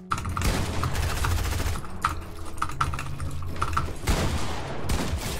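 Rapid bursts of Fortnite gunfire fill the span, dense and continuous with loud repeated shots and clicks, alone without talk.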